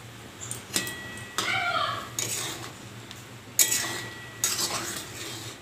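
A spoon scrapes and clinks against a cooking pot as poppy seed paste goes into a simmering dish of boiled hog plum, in a few separate bursts with a quiet bubbling underneath, close by and with no talking.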